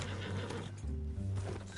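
Horses in the Red Dead Redemption video game neigh and whinny loudly, with a second whinny following after a short pause and faint hoof clip-clop underneath.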